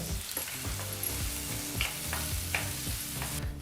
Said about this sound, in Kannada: ಹಾಗೆ ಬಹಳ ಚಿಕ್ಕದಾಗಿ ಕಟ್ ಮಾಡಿದಂಥ ಒಂದು ಈರುಳ್ಳಿನ ಹಾಕಿ ಮೀಡಿಯಂ ಫ್ಲೇಮ್ನಲ್ಲೇ ಎರಡರಿಂದ ಮೂರು ನಿಮಿಷ ಈರುಳ್ಳಿನ ಫ್ರೈ ಮಾಡ್ಕೋಬೇಕಾಗತ್ತೆ